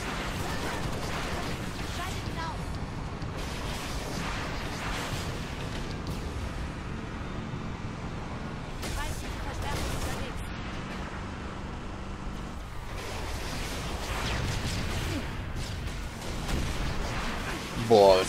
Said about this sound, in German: Kanonen schießen Hochdruckplasmagranaten auf uns.